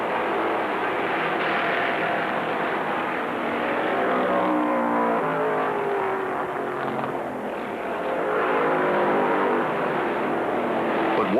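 Stock race cars roaring around the track during a race, a loud continuous engine drone from several cars that swells and fades slightly as they pass, with no talking.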